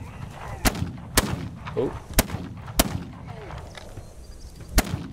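Single gunshots ring out in This Land is My Land, six sharp, loud cracks spaced irregularly about a second apart, with a brief exclamation from a voice between them.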